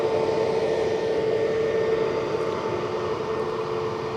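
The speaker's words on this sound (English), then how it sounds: "aircraft, an A321neo, 5 years of age" A five-year-old Airbus A321neo roars steadily at an airport, a broad continuous engine rumble with a faint steady tonal whine, loud and unbroken with no talk.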